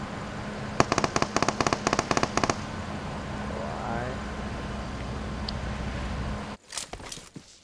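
A rapid, loud burst of automatic gunfire in PUBG Mobile lasts about two seconds, followed by a steady background hum and a few faint clicks and shuffles near the end.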